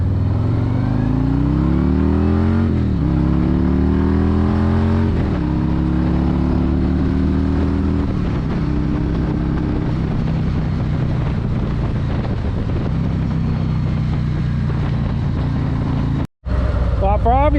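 A 2024 Harley-Davidson motorcycle cruising on a highway, its engine droning loud and steady with rising and falling pitch as it shifts through gears, mixed with heavy wind rush, and a brief cutout near the end.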